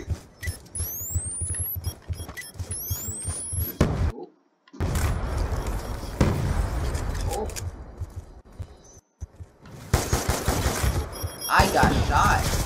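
Video game gunfire, rapid bursts and heavy thumping shots against busy game effects and some short dropouts, with a player's voice speaking over the action.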